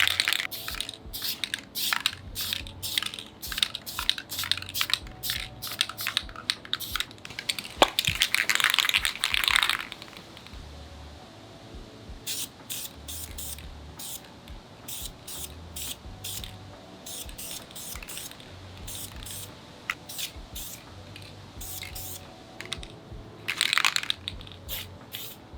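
Aerosol can spray painting a rifle green, hissing bursts of varying length with a longer sustained spray near the middle and short clicks and rattles between passes.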